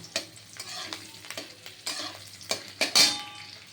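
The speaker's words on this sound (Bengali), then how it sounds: "এটা ভাজা হলে এটা লাল করে ভাজা হবে রসুনটা" Garlic frying in oil in a pan for a pumpkin and prawn dish, with a soft sizzle under repeated scraping stirs of a spatula against the metal, close and uneven in rhythm.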